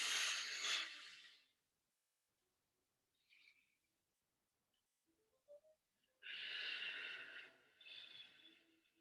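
A big exhale during an arm-raising exercise, heard as two breathy bursts of air, one at the start and a longer one near the end, with a few faint small sounds in the quiet stretch between.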